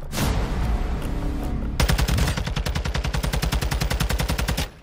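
Rapid automatic gunfire in the game Warzone, a burst of noise followed by a long, steady string of close, loud shots in fast rhythm that stops abruptly.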